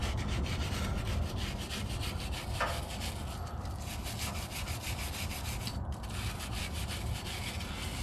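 A brush scrubs the driveshaft of a 2006 Ford F-250 coated in Simple Green degreaser, giving a continuous rapid rubbing and scraping close by, with no talking.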